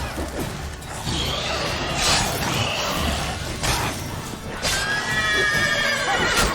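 Horse neighing with clip-clop of hooves in The Witcher 3, a medieval fantasy game, with a whinny rising near the middle and end over continuous game ambience and clatter.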